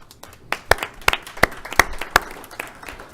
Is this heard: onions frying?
no